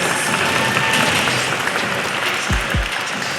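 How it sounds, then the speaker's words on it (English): Audience applause for two grapplers at a wrestling or grappling match, a broad steady wash of clapping from a crowd filling the whole stretch at a moderate level. "Let's give these two grapplers another round of applause."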